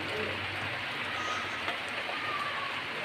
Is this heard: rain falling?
yes